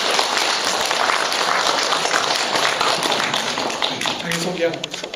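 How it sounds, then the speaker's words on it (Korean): Loud, dense applause from an audience filling the room, steady and continuous before tapering off near the end, where a voice starts to come through. "우렁찬 박수로 맞이합니다."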